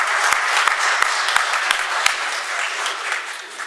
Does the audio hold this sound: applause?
yes